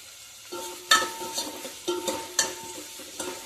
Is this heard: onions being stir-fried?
yes